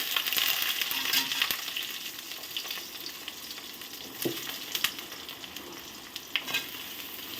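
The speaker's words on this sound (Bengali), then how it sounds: "আলু আর বেগুনটাকে আমি লাল লাল করে ভেজে নেব।" Potato and eggplant pieces frying in oil with bay leaf and dried chilli, a close crackling sizzle with repeated metal stirring scrapes and clinks, moderately quiet and without speech.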